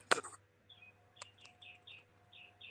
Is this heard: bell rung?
no